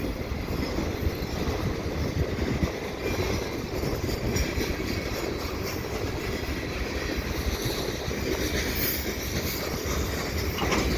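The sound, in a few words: freight train passing and slowing down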